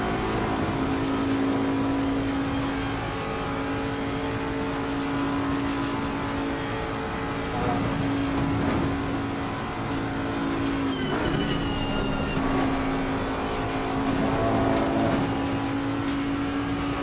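Race car engine in Assetto Corsa Competizione roaring steadily at high revs down a long straight, a loud continuous drone with a held pitch and brief shifts near the end.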